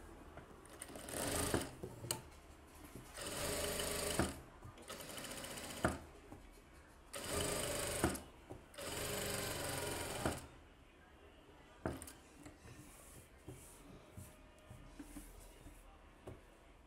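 A sewing machine stitches the back neck of a blouse in a tailoring workspace, running in several bursts of fast, steady whirring separated by pauses, with a person talking in between.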